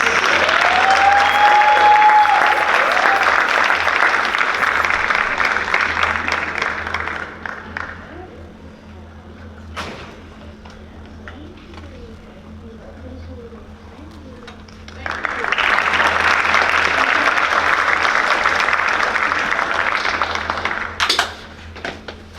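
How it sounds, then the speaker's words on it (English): Audience at a parent appreciation night clapping loudly, a long burst that fades into quieter room noise before a second strong round of applause swells up again. "You should all clap for her multiple times."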